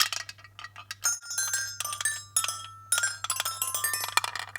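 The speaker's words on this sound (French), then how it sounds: "une tour glockenspiel ou carillon qui marche avec des petites billes comme ceci" Small marbles drop through a toy glockenspiel chime tower, setting off a tumbling run of bright, close metallic pings and clinks in irregular bursts, with no talking.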